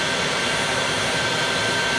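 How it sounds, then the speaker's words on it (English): An open-ended winding induction motor on a dual inverter drive runs at full speed, 1800 RPM, under a full 20 Newton-meter load, giving a loud, steady broadband whir with a constant tonal whine. "the motor is running at full speed, 1800 RPM with full load, 20 Newton meters"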